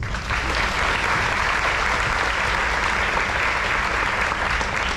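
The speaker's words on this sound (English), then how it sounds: "Round of applause to you guys." Sustained audience applause at a high school Navy JROTC change of command ceremony, a large crowd clapping loudly and evenly throughout.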